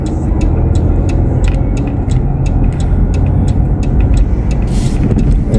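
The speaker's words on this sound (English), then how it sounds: "There's a lot of cars." Busy city-intersection traffic on a Sunday afternoon: a dense, continuous roar of car and heavy vehicle engines close by, with repeated short high clicks and a brief hissing burst like an air brake, no talking.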